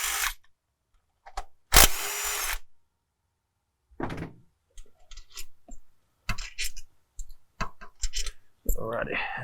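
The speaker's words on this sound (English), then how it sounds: "We're just going to zip these 3 10 metric bolts out." A power tool zips out three 10 mm bolts on a Ford Powerstroke 6.7L diesel engine, with short bursts of whirring and ratcheting clicks separated by pauses, and someone talking between bursts.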